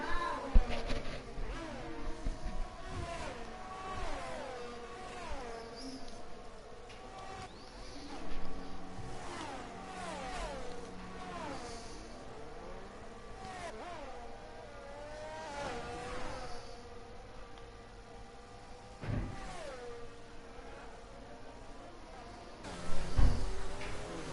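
Racing cars in an Italian Grand Prix video game whine and rev through the pit lane, engine tones rising and falling over a steady background with occasional louder passes.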